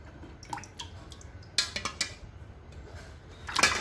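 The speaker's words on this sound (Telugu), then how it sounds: "దీనిలో గంజి వేస్తున్నానండి నేను." Boiled rice starch being poured into water for stiffening white shirts, giving a few quiet drips and light splashes with faint clinks against the container, sparse and close by.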